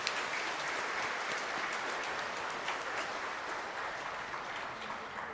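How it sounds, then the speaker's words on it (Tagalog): A church congregation gives sustained applause during a New Year's Day homily, a dense, even wash of clapping from many hands that carries on for several seconds and slowly thins toward the end. "Palapakan natin si Lord."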